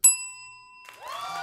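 A single bright bell ding marks the first chat message on a morning livestream, struck once with a sustained ringing tone that fades, then a short burst of crowd cheering and applause.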